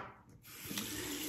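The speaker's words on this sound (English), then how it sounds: "let me add a little more water to this" A little water trickles onto shaving soap for lathering with a shaving brush, a soft, brief splash and wet rustle close by with no talking.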